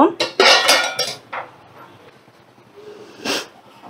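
A metal lid lifted off a pot of cooked khichuri, a few sharp close clanks and scrapes at the start, then quiet with one more clink near the end.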